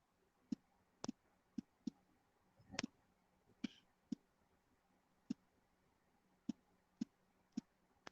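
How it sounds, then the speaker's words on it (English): Someone types on a keyboard during a vlog, giving sparse, faint individual key clicks spaced irregularly, with a brief muffled rustle in the middle. "I'm just typing it so that it goes on the screen for anybody."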